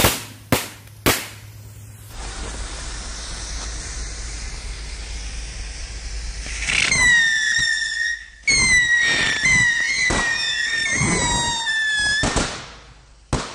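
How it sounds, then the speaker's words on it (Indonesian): Five rocket firecrackers, lit with candle firecrackers, go off outdoors: a few sharp pops and a long hiss, then several shrill whistling launches overlap close by, rising and fading one after another. "Itu dia tadi petasan luncur."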